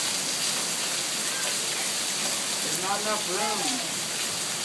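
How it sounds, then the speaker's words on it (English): Hail pounds down steadily during a storm in North Las Vegas, a dense, loud, continuous hiss and clatter. People talk briefly over it. "Is that hail?"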